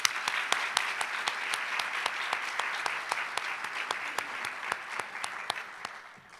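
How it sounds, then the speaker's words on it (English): Sparse round of applause from a summit audience, loose individual claps spaced out and moderately distant, fading toward the end. "Let's give them a round of applause"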